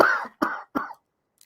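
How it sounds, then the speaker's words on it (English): A short coughing fit: three harsh coughs in quick succession, close and fairly loud, followed by silence. "coughing fit"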